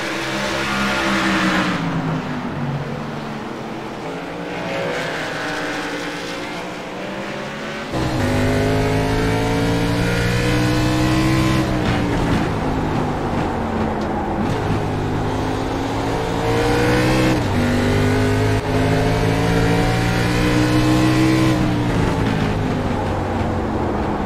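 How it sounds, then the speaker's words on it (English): Race car engines in the iRacing sim at Thompson roar loudly and continuously, revving up and down through gear changes with several cars layered together and no talk over them. "get these engines loud and let you guys enjoy the sounds of iRacing"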